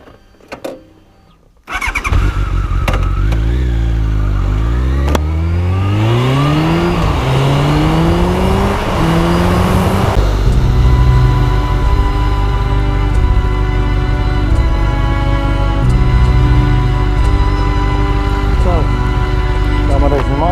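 Honda CBR1100XX sport motorcycle on a top speed run, engine roaring up through the gears with rising, falling revs at each shift, then a steady loud high-speed drone with wind rush.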